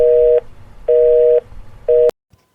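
A telephone line's busy tone sounds after a call is hung up: three loud, evenly spaced beeps, the last cut short by an abrupt click, then near silence.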